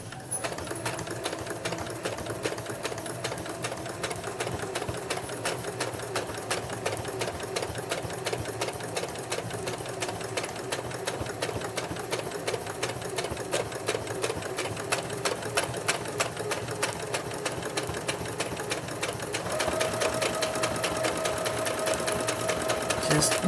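A sewing machine stitching a potholder runs continuously at a steady fast rate, producing a close, even mechanical whirring with rapid rhythmic needle clatter throughout.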